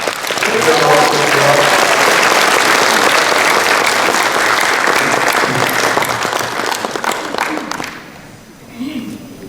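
A church congregation claps loudly and steadily for several seconds to welcome a preacher, then the applause fades away and a voice begins speaking in Korean.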